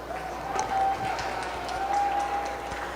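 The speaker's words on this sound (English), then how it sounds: "Let's give them a round of applause." Audience applause at a county fair 4-H/FFA sheep showmanship and market show ring, a steady wash of clapping through the whole stretch with a faint sustained tone and some speech-like sound mixed in.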